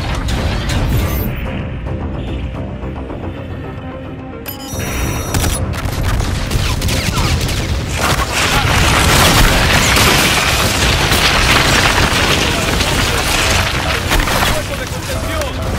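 Rocket strikes from a C-12 in the Call of Duty: Infinite Warfare video game land as loud, rumbling explosions and rapid bursts, with a voice speaking over the heavy, continuous battle noise.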